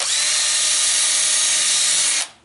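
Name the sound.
power drill drilling holes with 1/4-inch drill bit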